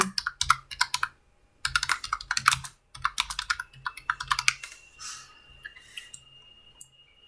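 Typing on a computer keyboard, bursts of quick close key clicks separated by brief pauses, ending in sparser taps, with no talk.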